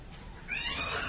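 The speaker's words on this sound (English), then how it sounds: "You ever seen the expression on a cat's face when it's startled?" A startled cat gives a faint, brief meow-like cry, rising midway through a low, quiet background rumble.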